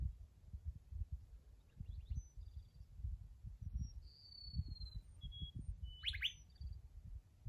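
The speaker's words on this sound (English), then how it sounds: "There's the whistling bird." Several thin, high whistling bird calls ring out intermittently over a low rumbling background, ending with a quick rising chirp.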